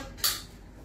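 A small spoon gives a single quick metallic clink against a dish, sharp and close, with a quiet background before and after.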